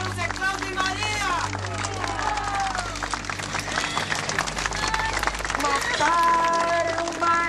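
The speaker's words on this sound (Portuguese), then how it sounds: "nós vamos reverenciá-los com uma grande salva de palmas" Applause at a funeral procession honoring murdered environmentalists Zé Claudio and Maria: a large crowd claps steadily and continuously, with voices calling and singing over the clapping throughout.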